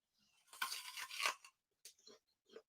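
A crunchy Honeycrisp apple is bitten with one loud, crisp, tearing crunch lasting about a second, followed by a few quieter chewing crunches close by, with no talking.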